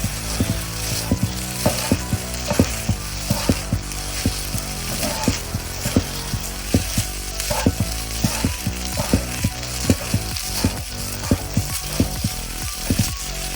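Fried rice sizzles steadily in a hot pan while a spatula stirs it, scraping and clacking in an irregular rhythm of sharp knocks over the constant hiss, close and fairly loud with no talking.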